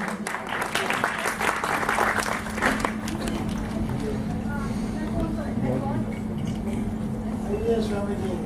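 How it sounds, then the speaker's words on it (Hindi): Clapping rises from an auditorium audience at a Vaisakhi stage show, a burst of strong applause in the opening seconds that thins out, with a steady low hum beneath and a voice talking through the later part. "एक बार जोरदार तालियों से।"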